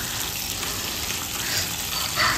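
Fish pieces frying in a pan of spice masala made without onion give a close, steady, loud sizzle that holds evenly throughout with no talk.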